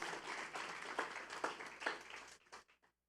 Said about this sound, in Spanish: Así que le puedo dar un aplauso a Dios por su iglesia